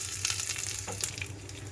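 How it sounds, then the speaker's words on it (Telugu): Steady close sizzle of tempering seeds and dried red chillies frying in hot oil, a crackling hiss that runs continuously with small pops throughout. "ఆయిల్ అంతా హీట్ అయిన తర్వాత తాలింపు గింజలు ఎండుమిరపకాయలు వేస్తున్నాను"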